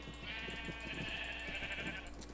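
A sheep on a video game farm bleats in one long, wavering call that rises over a steady background hum, close and clear with no talking.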